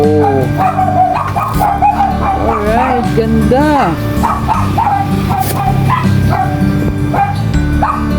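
Small dogs yip and bark excitedly in quick bursts with whimpers, close and loud, while a person talks over them.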